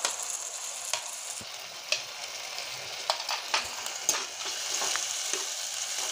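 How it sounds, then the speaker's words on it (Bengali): Onion and garlic paste sizzles steadily in a hot pan while a spoon scrapes and stirs it in irregular strokes, close and fairly quiet, with no talking. "পেঁয়াজ আর রসুন আমি একসঙ্গে কষিয়ে নিব।"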